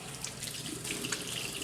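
A kitchen tap runs steadily into a sink for hand washing before cooking chicken cacciatore, a continuous close splashing hiss with no talk.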